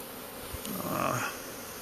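A swarm of honeybees hums as a steady, diffuse buzz, with a slightly louder swell near the middle and a faint tap early on.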